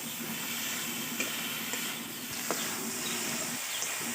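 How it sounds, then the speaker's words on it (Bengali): Ridge gourd sautéing with fried mung dal in a pot gives a steady soft sizzle and hiss, with occasional faint clinks of stirring and no talk. "তো ঝিঙ্গাগুলো দেওয়ার পরে আমি এই ডালটার সাথে খুব ভালোভাবে আমি কষিয়ে নেব।"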